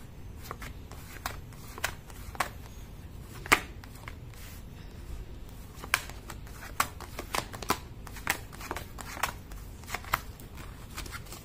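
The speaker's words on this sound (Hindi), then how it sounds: "चलिए एक और कार्ड निकाल लेते हैं।" Tarot cards shuffled by hand for a reading, with crisp repeated riffling slaps and soft card rustles scattered irregularly across a quiet room, close and moderately loud, no talking.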